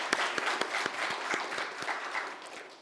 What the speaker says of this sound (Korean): 크게 영광의 박수를 돌리겠습니다.